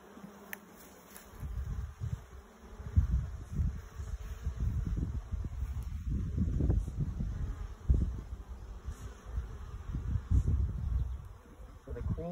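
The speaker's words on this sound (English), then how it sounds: "lots of bees in here, man" Honeybees hum around an open hive during a beekeeper's inspection, a soft continuous buzz running under rustling frame handling and intermittent low talk from the keeper, rising and falling in loudness across the stretch.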